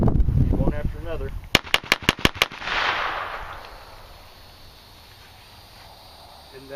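A handgun fires six sharp, loud shots in rapid succession after brief talk, followed by a rolling echo that fades into quiet outdoor ambience.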